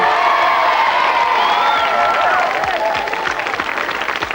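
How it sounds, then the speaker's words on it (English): A studio audience on a CBBC children's programme applauds and cheers loudly for Steve. Continuous clapping runs under whoops and excited young voices, starting at full strength and easing slightly toward the end. "big round of applause for Steve"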